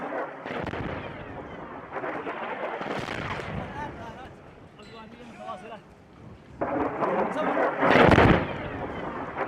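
Heavy booming blasts from explosions at Sana'a International Airport in Yemen, with rumbling roars that rise and fall, the loudest near the end, and voices faintly mixed in.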